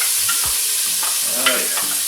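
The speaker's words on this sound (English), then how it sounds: "Get those onions sauteing on like a little hot oil." Onions sizzle steadily in hot olive oil in a pan, a bright continuous hiss with a few stirring scrapes, close and loud.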